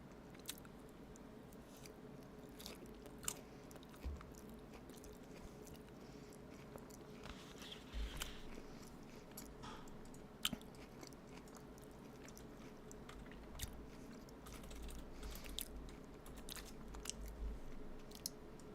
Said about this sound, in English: I'm gonna put on some music so that my chewing hopefully isn't as loud.